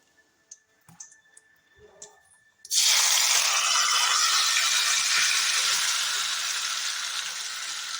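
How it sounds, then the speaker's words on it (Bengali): Peas, ginger and chili paste hit hot oil in a pan, setting off a loud, sustained sizzle that stays steady and close for several seconds after a few quiet clinks and taps. "এবার মটরশুঁটি, আদা আর লঙ্কা পেস্টটা আমি সম্পূর্ণ তেলের মধ্যে দিয়ে দেবো।"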